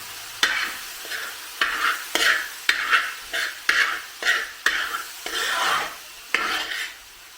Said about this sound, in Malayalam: പിന്നെ നമുക്കിതിന് മീഡിയം ഫ്ലെയിമിൽ ഒന്ന് വെച്ച് അടുക്കി പിടിക്കാതെ ഒന്ന് ഇളക്കി ഒന്ന് മൂപ്പിച്ചെടുക്കാം